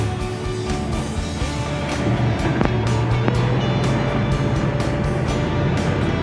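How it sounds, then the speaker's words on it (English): A steady, low Ford Mustang GT V8 rumble through a dual exhaust runs throughout at a constant level, with a deep throaty tone and a couple of brief sharp ticks partway through. "a nice mellow sound coming from the twin trumpets out back"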